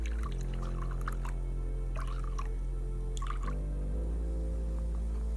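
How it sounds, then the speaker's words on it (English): Warm water poured into a bowl while measuring 100 grams for a sourdough starter, a steady close pour running several seconds with a few small drips and clinks over a constant low hum. "Take a fresh bowl again and measure 100 grams of warm water."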